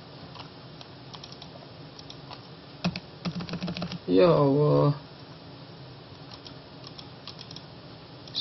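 Typing on a computer keyboard while working a geography practice exercise: soft, quick clicks in short bursts, close and moderately quiet, with a person briefly speaking over them in the middle.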